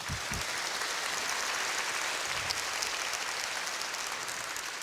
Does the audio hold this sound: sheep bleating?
no